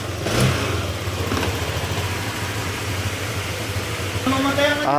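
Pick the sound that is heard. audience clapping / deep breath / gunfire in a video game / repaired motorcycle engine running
repaired motorcycle engine running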